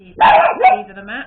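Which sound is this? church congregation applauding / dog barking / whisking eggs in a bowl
dog barking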